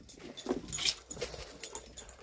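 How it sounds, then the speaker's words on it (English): German Shepherd guard dogs at an abandoned site, heard close by in a series of soft whimpers and short yips, broken into uneven bursts with quiet gaps between them. "But look at those guard dogs."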